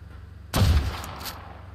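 A single sharp, heavy gunshot in the video game ARK bursts out after a moment of quiet, its boom rolling off with a faint trailing echo.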